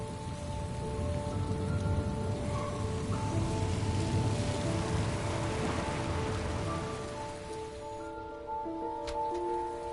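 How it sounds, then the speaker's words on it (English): Heavy rain falls in the video game Heavy Rain, a dense, close downpour hissing on surfaces over sustained tonal music, easing and thinning toward the end. "Heavy rain for weeks, though?"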